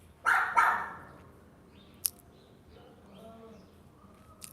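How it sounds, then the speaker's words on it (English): A dog lets out two sharp, fairly close barks in quick succession, followed by faint background noise and a brief click. "Oh my God, that dog."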